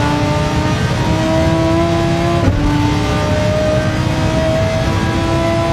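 A race car engine screams at full throttle in Gran Turismo 7, a loud, sustained high-pitched whine holding steady with a brief shift blip midway and no voices.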